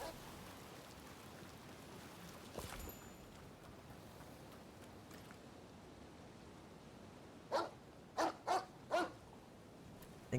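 Dog barking in the video game Rise of the Ronin: four quick barks in a tight cluster over a steady rain-like hiss, moderately close, with no talk.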